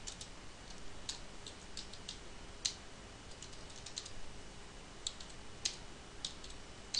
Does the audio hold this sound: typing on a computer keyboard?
yes